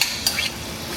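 A quick, close stir of sausage and other meats in a jambalaya pot, with soft scraping and clinks over a faint background sizzle.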